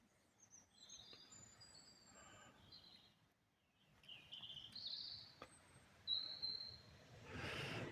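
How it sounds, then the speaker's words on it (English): Birds chirp and sing at Alfreton railway station around 3:45 in the early morning during drizzly rain. Scattered high calls and short whistles come over a quiet, faint background. "Just me and the birds."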